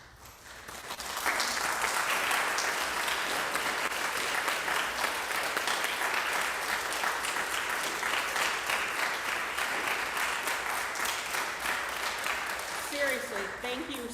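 A congregation gives a long, loud round of applause for teachers, substitutes and school staff, building quickly after a moment of quiet and holding steady, with a voice briefly audible near the end.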